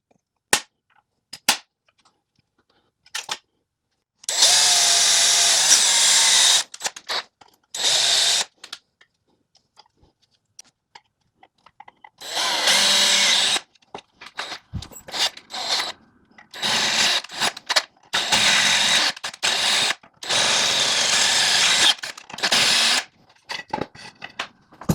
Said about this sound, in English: And I've got a drill and tap for this.